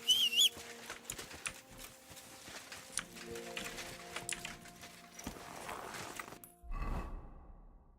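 Horse hooves clip-clopping in the medieval video game Kingdom Come: Deliverance 2, a soft, fairly faint run of irregular hoof taps over quiet ambient game sound, ending in a brief rustling burst.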